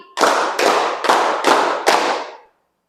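A classroom group claps in unison in a rhythmic pattern, five sharp, evenly spaced group claps, each ringing briefly, then silence.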